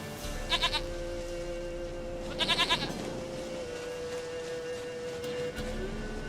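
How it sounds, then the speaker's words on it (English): Goat in The Witcher 3 video game bleating in two short bursts of quavering, stuttered calls, the second longer, over a steady game ambience with a low tonal hum. "Goat of mine, dearest, sweetest goat."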